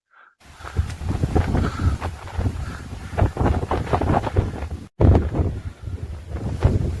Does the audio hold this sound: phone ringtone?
no